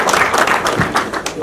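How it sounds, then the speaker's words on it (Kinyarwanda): Crowd clapping in a Rwandan television studio during a comedy show, dense steady applause filling the short moment, fairly loud with no pauses. "Umukomera amashyi."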